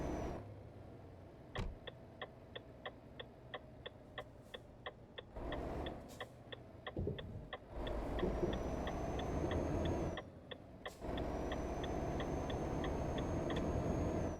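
A Renault T truck engine idling and pulling away in a driving video game, a steady low rumble with a regular ticking indicator running through it and brief pauses as the engine note shifts, with no talk over it.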